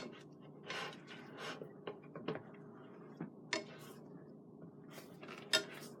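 Scrambled eggs stirred in a pan with a utensil, quiet irregular clinks and scrapes against the metal, soft and close with short gaps between strokes.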